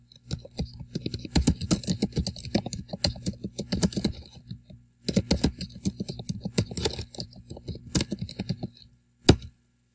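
Fast typing on a computer keyboard, dense bursts of key clicks in steady runs with brief pauses, close and clear with no talk.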